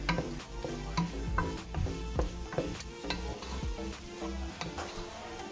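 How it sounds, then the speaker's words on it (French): Thai fried rice with shrimp and vegetables being stirred in a pan, with continuous close scraping and tossing over a steady sizzle, repeated knocks of the utensil against the pan; no talking. "Il faut très bien mélanger, hein."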